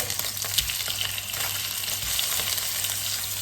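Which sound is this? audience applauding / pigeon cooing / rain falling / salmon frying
salmon frying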